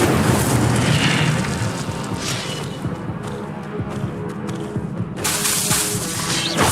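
Fiery whooshing blasts from the Incendio spell in Hogwarts Legacy, a loud roaring burst at the start and another near the end with quieter crackling between.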